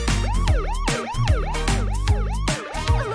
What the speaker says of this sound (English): An ambulance, of course.